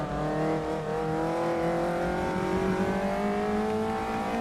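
Caterham race car engine in a racing sim video game, a loud steady high-revving drone that climbs gradually in pitch as it accelerates, with no voices.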